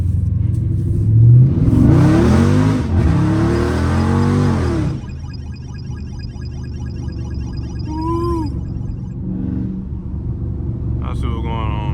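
A Dodge Scat Pack V8 revs hard while drifting through a turn, a loud roaring rise for the first few seconds that then drops back to a lower rumble. Voices and other faint tones come in later.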